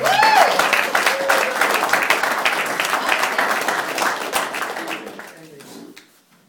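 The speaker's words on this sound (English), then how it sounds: "So I want you to give them a round of applause." A live crowd at the Generation Unleashed Live.Love 2012 event breaks into a full round of applause, dense and steady clapping that stays strong before thinning and fading away near the end.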